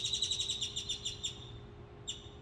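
Birds chirp in a quick series of about nine high, evenly spaced tweets, followed by a pause and one final chirp, faint over a low background hum.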